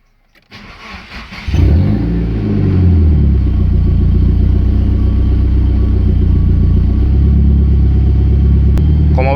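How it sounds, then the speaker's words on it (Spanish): A Nissan 200SX fitted with AliExpress fuel injectors cranks briefly, fires on the first try and settles into a loud, steady, close-up idle rumble that holds evenly to the end. "el coche arranca perfectamente a la primera, mantiene el ralentí bastante estable"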